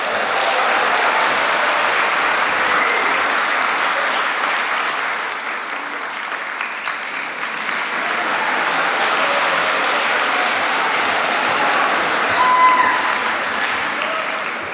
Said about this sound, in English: your chance to cheer and clap.